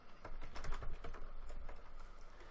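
Quick, light keystrokes tap out an irregular patter on a computer keyboard, fairly quiet and close, with no talking.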